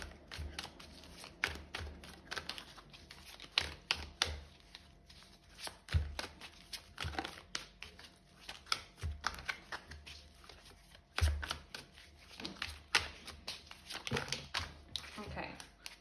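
A deck of tarot cards is shuffled and cards are pulled nearby, giving repeated crisp riffling bursts and snaps with short pauses between them. A faint voice can be heard in the background.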